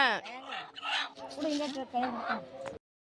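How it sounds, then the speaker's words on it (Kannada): Chickens clucking and squawking close by, with a rooster-like call mixed in, continuing for a few seconds before cutting off abruptly. "ದೊಡ್ಡ ಕೋಳಿ ಸಣ್ಣ ಕೋಳಿಗೆ ಹಿಡ್ಕೊಂಡಿದೆ"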